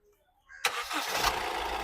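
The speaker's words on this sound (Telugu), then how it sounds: "సింగిల్ సెల్ఫ్లో బండి స్టార్ట్ అవుతుంది సార్." A 2017 Honda WR-V VX diesel car starts on a single crank after a moment of quiet, the engine catching abruptly and settling into a steady, close, fairly loud idle.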